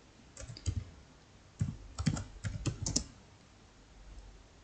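Typing on a computer keyboard in the Excel VBA editor: close, crisp clusters of keystrokes in several short bursts separated by brief pauses, with no talking.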